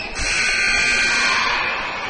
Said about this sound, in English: Warning buzzer.